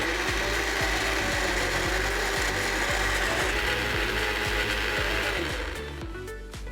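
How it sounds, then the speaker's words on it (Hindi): A blender grinds ginger, lemon juice and chilled water, a loud continuous whirring motor with a gritty, rattling churn that runs steadily and then begins to wind down at the end. "इसे अब हम ग्राइंड कर लेंगे।"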